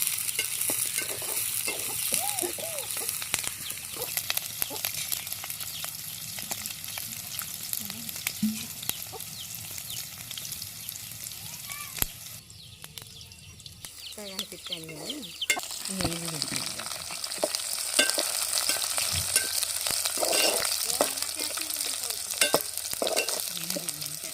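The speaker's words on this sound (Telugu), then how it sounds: "ముందుగా నూనె వేడైనాక ఉల్లిగడ్డలు వేయాలి ఉల్లిగడ్డలు వేసి ఇట్లా కొంచెం వేగినాక" Onions fry in hot oil on a wood-fired stove in a village kitchen, a continuous hissing sizzle with stirring scrapes. Faint voices and rural background sounds come and go behind it.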